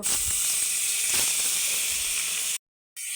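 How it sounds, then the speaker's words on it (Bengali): Parshe fish go into hot oil in a kadai, producing a loud, close, continuous hiss of sizzling that cuts off abruptly near the end, with no speech. "মাছগুলো এবার আমি এক এক করে দিয়ে দেব।"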